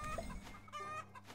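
Rock chickens in a Roblox egg farm simulator give off soft clucks amid faint game noise, in quick bursts.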